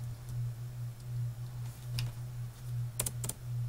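Keystrokes tap out a website name on a computer keyboard, a few quick clicks including a tight cluster near the end, heard faintly over a steady low electrical hum.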